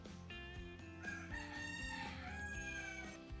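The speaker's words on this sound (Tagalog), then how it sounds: "Hala, sunod-sunod na naman ang mga manok." Several roosters crow in overlapping, drawn-out calls, with hens clucking steadily underneath; loud and close, one crow following another without pause.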